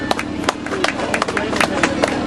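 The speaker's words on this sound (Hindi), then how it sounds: "आप लोग की ताली तो इतनी कमजोर है कि कार्यक्रम चल रहा है पता नहीं चल रहा" Scattered clapping from an audience at a school event where a lamp is being lit, irregular claps close by over crowd murmur and talk.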